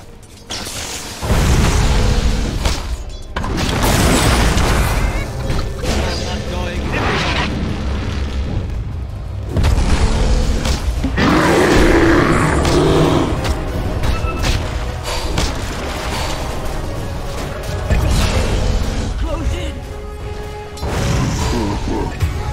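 Dota 2 battle with the Dire bottom tower crumbling under attack, heavy booms, crashes and thuds piling up loudly and continuously, dense and close with little pause.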